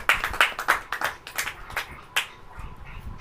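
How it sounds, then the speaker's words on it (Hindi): An audience at a church sermon claps hands in a run of sharp, uneven claps that thin out and stop near the end, with no talking. "ताली बजाइए।"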